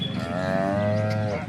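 A single long, loud cow moo in a Gujarati village setting, one sustained low bellow lasting over a second, close to the listener with steady background noise.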